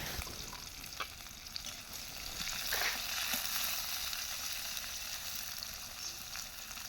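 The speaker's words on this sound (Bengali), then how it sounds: "এখন দিয়ে দেবে পেঁয়াজটা, দিয়ে এটাকে সুন্দরভাবে নেড়ে ফিরে লাল লাল করে ভেজে নেবে" Sliced onions fry in oil with cinnamon, peppercorns and bay leaf in a pan, a faint continuous sizzle broken by occasional scrapes and taps as they are stirred around.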